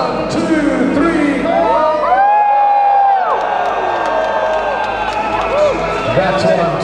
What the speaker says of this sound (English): on the count of three, I want everybody to cheer